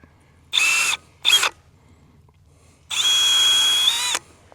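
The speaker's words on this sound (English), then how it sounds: "Drill a couple of pilot holes." A power drill boring pilot holes for mounting a DIY driveway alarm: two short whining bursts, a pause, then one longer sustained run, close and loud with no voices.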